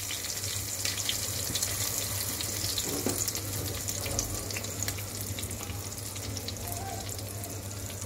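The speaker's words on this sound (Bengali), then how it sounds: "তেলটা গরম হয়ে গেছে, ঠিক এর মধ্যে এখন আমি দিয়ে দেব মাছগুলি।" Shrimp frying in hot oil in a home kitchen, a dense, steady sizzle running throughout with a constant low hum beneath it; no voices.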